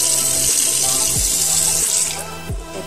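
Dried taro (gabi) leaves washed under running tap water in a sink, a steady close rush of water with a couple of low splashing thumps as the leaves are handled, no talk.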